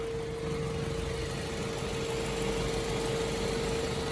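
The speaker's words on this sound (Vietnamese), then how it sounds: "máy em đang nổ máy nhá nó phải nói là cực kỳ êm luôn đấy ạ" A Mazda 6 2.0 engine idles smoothly and steadily at close range, a low even hum with a faint whine on top, no voices.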